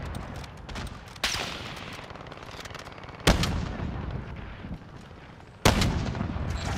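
In a video game, three loud, sharp sniper shots crack out at spaced intervals, each followed by a fading tail, over a busy background of softer game noise.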